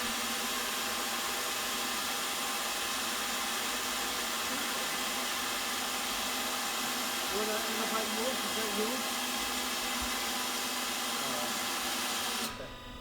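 A stage lifter for moving heavy items up to stage level, tested inside a theater under restoration, gives a steady, loud mechanical whir and hum that runs unbroken for the whole clip and eases off right at the end.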